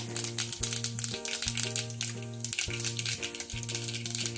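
Mustard seeds and cumin spit and sizzle in a spoonful of hot oil, a steady crackling hiss with small pops running throughout, mixed with a tonal musical backing.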